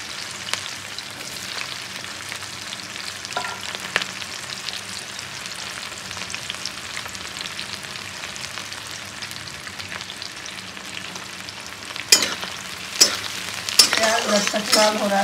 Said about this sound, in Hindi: इसमें हरा मिर्चा डाल देंगे, अब डालेंगे प्याज, इसके साथ में भुनाएगा।